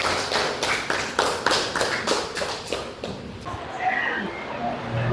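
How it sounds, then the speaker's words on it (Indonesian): An audience at a religious lesson claps in unison, about eight strong, evenly spaced rhythmic claps. These fade out after a few seconds into a quiet room murmur. "Tepuk tangan."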